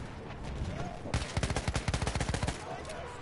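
A rapid burst of SMG fire in a video game, about a dozen close, loud shots in quick succession lasting roughly a second and a half, framed by quieter game ambience before and after.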